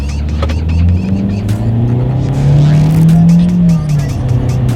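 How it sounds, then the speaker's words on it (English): A 2017 Chevrolet Spark accelerates hard, its small engine note climbing steadily in pitch and loudness before easing off near the end, heard close and alone with no talk. "see how quickly we can get the 2017 Chevy Spark here up to speed"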